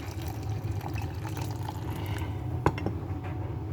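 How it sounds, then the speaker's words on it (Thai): Homemade ginger drink is poured into a glass, giving a faint, steady liquid trickle with a small clink partway through, heard alone in a quiet room. "แอดเทน้ำขิงเข้าไปนะเพื่อน"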